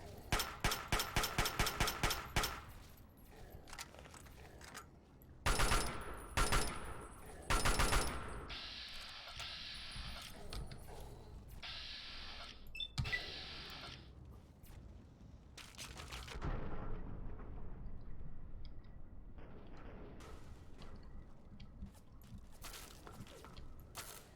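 Quiet Fallout 3 combat: rapid bursts of automatic gunfire open the scene, more volleys and a muffled grenade blast follow, then a long rumbling stretch of scattered shots and low background noise.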